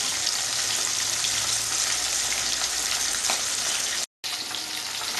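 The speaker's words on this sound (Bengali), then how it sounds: "মাছটা আমি বেশ ভালো করে কড়াকড়ি ভাজবো" Rohu fish pieces frying in hot oil for a Bengali kalia, a dense, steady crackling sizzle heard up close and alone, with a brief cut near the end.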